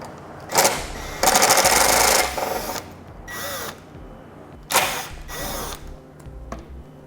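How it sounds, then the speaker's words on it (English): Number 2 Phillips head screwdriver backing two screws out from the bottom of a 2014 vehicle's bumper, close loud bursts of gritty ratcheting and turning with short pauses between them. "We'll use a number 2 Phillips head screwdriver."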